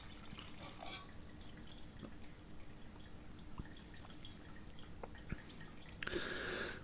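Beef stock slowly dripping and dribbling through a very fine sieve in a kitchen, soft scattered drips and trickles, faint and close, ending with a brief louder splash of liquid.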